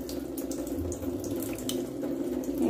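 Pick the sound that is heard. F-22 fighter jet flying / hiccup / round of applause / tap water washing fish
tap water washing fish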